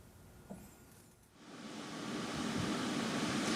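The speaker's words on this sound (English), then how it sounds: "you might be able to even hear just how quickly this water is rushing here behind me" Fast-rushing floodwater beside a rural state route after a water rescue, a broad steady roar that swells and grows louder and denser after a brief dip, with no voices.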